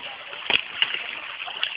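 People hand-wash laundry in a generous amount of water, with a few distinct splashes and sloshes rising over a steady background wash.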